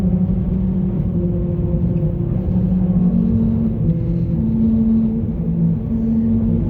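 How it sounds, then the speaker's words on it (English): Continuous low rumbling road noise from a car rolling steadily over a bridge's metal grating, a dense droning hum with slight pitch wavering, no talking. "metal grating of the bridge."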